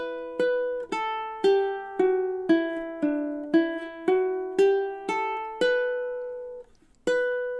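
A stringed instrument plays a campanella-style stanza of God Rest Ye Merry Gentlemen. Clear plucked notes fall at an even, unhurried pace, each ringing on into the next, solo and close, with no talking.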